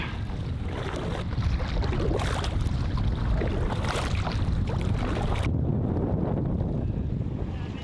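Strong gusty wind buffeting a microphone aboard a boat on open water, a loud continuous roar and rumble with no talking, easing slightly near the end.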